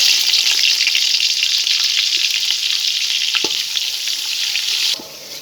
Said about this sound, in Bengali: এবার আমি পেঁয়াজের বেস্তাটা বানিয়ে নেব